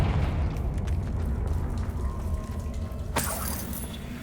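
A Confringo fire spell blast in Hogwarts Legacy bursts out suddenly as a bright crackling explosion after a low rumbling ambience, then fades into a lingering fizz.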